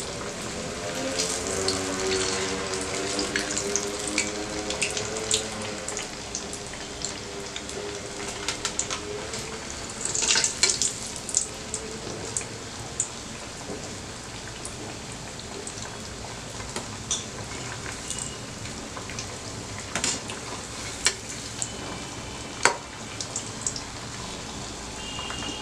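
Sweet potato cutlets frying in a pan, a steady soft sizzle and crackle with occasional louder pops throughout.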